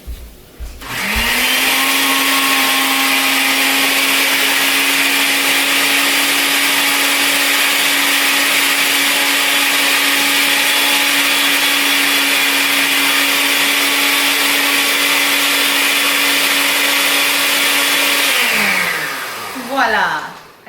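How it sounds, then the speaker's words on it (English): A countertop blender whirs through a garlic cream sauce, a loud, steady high-pitched motor drone that starts abruptly, holds evenly for many seconds, then winds down as it is switched off. "now I'm gonna take it to the blender and blend it"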